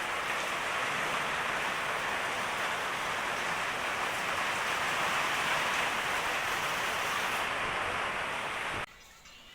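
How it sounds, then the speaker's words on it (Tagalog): Heavy monsoon rain pours down without letup, a dense, steady hiss of drops on surfaces filling the air, loud and constant before dropping away suddenly at the end. "wala talagang humpay ang ulan"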